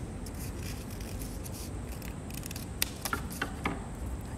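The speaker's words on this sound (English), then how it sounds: "The scissors" Quiet snipping and rustling of scissors working through paper, with a few sharper clicks of the blades near the end, close and soft.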